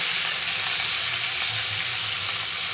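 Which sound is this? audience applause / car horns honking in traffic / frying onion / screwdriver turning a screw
frying onion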